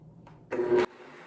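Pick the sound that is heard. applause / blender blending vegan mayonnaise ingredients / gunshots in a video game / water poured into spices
blender blending vegan mayonnaise ingredients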